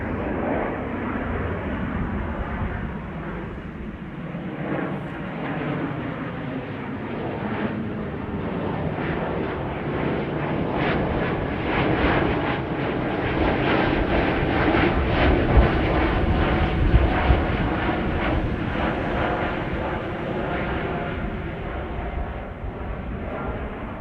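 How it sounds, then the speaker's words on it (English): An Embraer E195-E2 jet taking off from Amsterdam Schiphol on a flight to Billund, a loud, sustained broadband engine roar that builds steadily and holds strong throughout. "E2 Embraer 195. Just now taken off. Flight 1295 to Billund."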